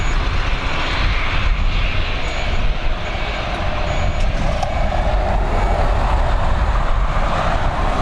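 An airliner takes off at Dublin Airport, its jet engines roaring loud and sustained with broad rumbling noise throughout, no talk.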